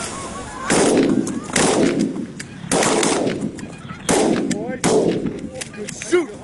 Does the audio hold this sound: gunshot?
yes